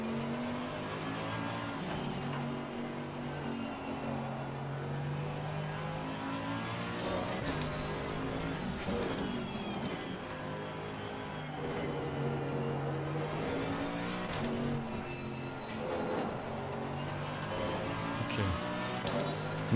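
GT3 race car engine in Assetto Corsa Competizione at the Nürburgring, a continuous loud engine drone rising and falling through gear changes and revs across a full lap, with no talk over it.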